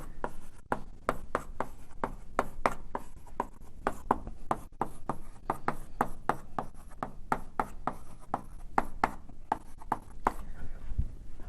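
Chalk or marker strokes on a lecture board, a long run of quick scratchy taps and short swipes in irregular rhythm, close and steady for about eleven seconds with no talking.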